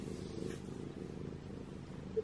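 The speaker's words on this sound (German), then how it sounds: "ja, sorry wegen dieser Katze." A cat purrs steadily and close by, a continuous low rumbling drone with no talking over it.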